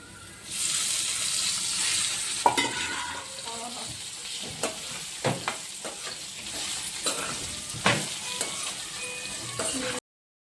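Bitter gourd pieces frying in oil with turmeric, a loud close sizzle that starts up suddenly, with repeated stirring scrapes and clanks before cutting off abruptly.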